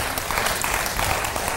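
Audience applause at the RTI group's televised season-launch gala, a dense, steady wash of many hands clapping at an even level throughout, with no voices on top.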